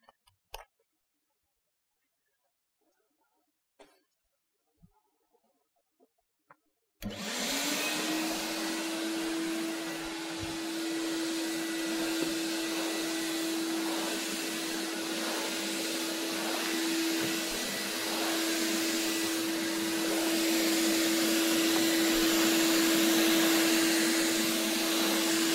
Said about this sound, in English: is the vacuum cleaner that we are going to use while vacuuming our carpet